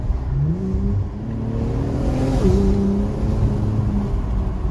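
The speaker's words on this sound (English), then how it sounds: "Open that exhaust up now" An Infiniti Q60 twin-turbo engine with a modified open exhaust rumbles loudly and close by, its pitch rising and falling as it revs, with a deep throaty exhaust tone.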